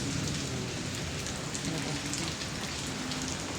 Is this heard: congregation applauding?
no